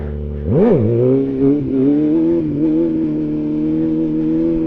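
A four-cylinder motorcycle engine rises in a quick blip of revs, then settles into a smooth, steady idle, loud and close with no voices.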